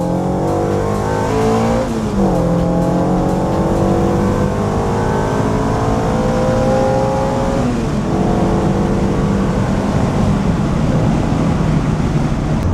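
A Renault 5 car drives and accelerates hard, its engine note climbing through the gears with distinct shifts around the second and eighth seconds, loud and continuous from inside the car.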